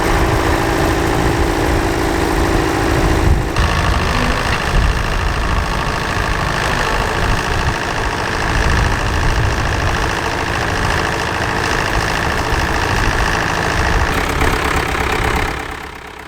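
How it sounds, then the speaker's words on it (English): An original-condition David Brown tractor idles at a ploughing match, a loud, steady, close-up engine drone with an even knocking beat that continues unbroken before easing slightly at the end. "This original condition David Brown is quite a nice tractor, and it's got quite an unusual plough behind it as well"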